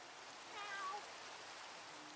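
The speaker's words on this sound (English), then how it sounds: "Kitty cat." A cat in the video game Minecraft gives a single short, faint meow over a soft, steady hiss.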